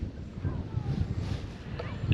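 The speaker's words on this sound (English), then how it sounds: "A little bit windy today as well." Gusty wind buffets the microphone beside the River Great Ouse during a solo kayak paddle, a low rumbling roar rising and falling over about two seconds, close and fairly strong.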